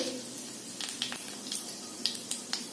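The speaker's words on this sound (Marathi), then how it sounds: "मोहरी छान तडतडू लागली की गॅस एकदम बारीक करायचा" Mustard seeds crackle in hot oil while a tempering is made for a broad-bean (ghevda) bhaji: sparse, sharp little pops over a faint, low sizzle, close and quiet.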